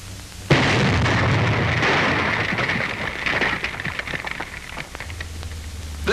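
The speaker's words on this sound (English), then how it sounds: "Roadblocks set up by the enemy have to be blown out" Explosive charges blow out enemy roadblocks during wartime port repair work, a sudden loud blast followed by a sustained roar and crackling debris that slowly fades over several seconds.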